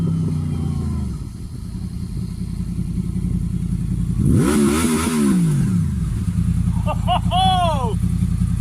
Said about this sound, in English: glorious sound of the Honda VFR approaching